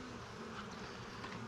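Honeybees buzz in a low, steady drone around an open hive during an inspection, fairly faint and close, with no voices over it.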